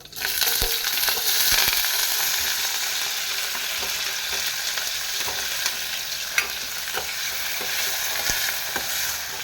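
Cumin, chopped onion and curry leaves sizzle hard in hot oil in a pan, a dense, continuous frying hiss with occasional sharp pops and stirring scrapes, close and steady throughout.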